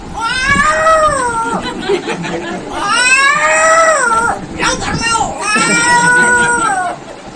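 A human voice imitates a cat, giving three long, wavering meows in a row, loud and close with short pauses between them.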